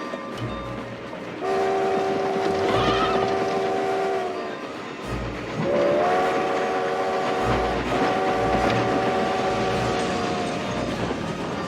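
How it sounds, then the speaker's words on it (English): A train in a 1890s-era period drama scene rumbles steadily along the track while its horn sounds in long sustained blasts, with a brief gap before the horn resumes, loud and close. "Lieutenant, stop that train!"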